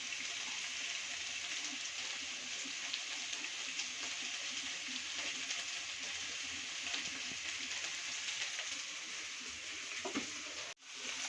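Okra frying in a pan gives a steady, close, even sizzle and hiss for the whole stretch, with no talking, then cuts out briefly near the end.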